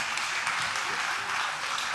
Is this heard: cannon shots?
no